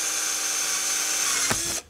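A step drill bit spins steadily through its cut with a constant whine and buzzing grind for almost two seconds, ending with a short catch before cutting off.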